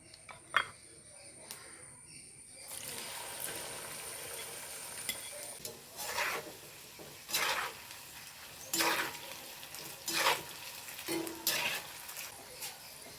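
Okra frying in hot oil in a home kitchen, a quiet continuous sizzle broken by several louder bursts of stirring and spatula scraping, with faint background noise and no one speaking.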